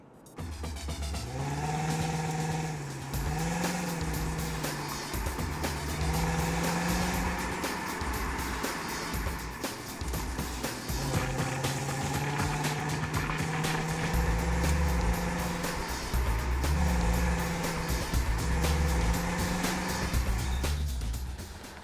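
A car engine, from an MG ZTT, VW Passat W8 or Volvo V70 T5 performance estate, runs loud and steady for about twenty seconds, its pitch rising and falling in repeated revs with no one talking.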